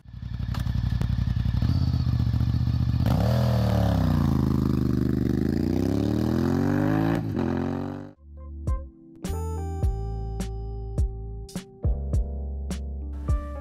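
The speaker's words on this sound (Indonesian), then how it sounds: "RC51 adalah jawaban Jepang untuk mesin Twin Ducati, yang mana mesin ini dapat memberikan suara berat dari Twin 1000 cc mereka." Honda RC51 V-twin 1000 cc motorcycle engine, loud and close, with a deep throbbing idle that swells into rising and falling revs, then cuts off into sparse clattering knocks.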